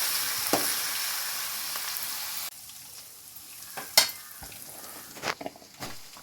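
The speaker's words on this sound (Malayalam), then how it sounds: "സവാള ഇട്ടതിന് ശേഷം നമ്മൾ നല്ലതുപോലെ വഴറ്റണം. നല്ലപോലെ വഴറ്റിക്കൊണ്ടിരിക്കണം." Onions sautéing in a pan for a soya chunks curry, a steady hiss of frying that drops quieter midway, broken by a few sharp scraping stirs and knocks up close.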